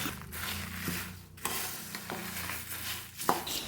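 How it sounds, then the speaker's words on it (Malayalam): Spices for rasam powder, with dried chillies, are stirred while roasting in a pan, giving soft scraping and rustling strokes over a faint sizzle, close and fairly quiet with no talking. "കുറച്ച് നേരം കൂടി ഒന്ന് ഇളക്കിയിട്ട് നമുക്ക് നിർത്തി വയ്ക്കാം"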